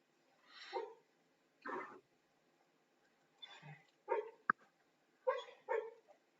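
A dog barks several times in short separate bursts with brief pauses between them, moderately close and clear, with no talking over it.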